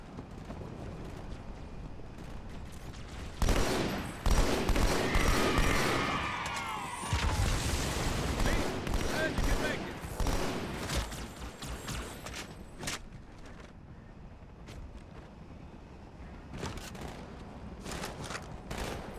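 Halo 2 video game combat near a hotel crash site: rapid bursts of gunfire and booming blasts crackle over a continuous battle ambience, with several dense volleys in the middle section and more scattered shots later.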